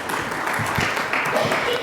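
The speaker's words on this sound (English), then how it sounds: "With a round of applause, let's welcome Murtuza, sir." Audience applause greeting a speaker at an international galvanizing industry conference. The clapping is moderate and continuous for a couple of seconds, with voices mixed in underneath.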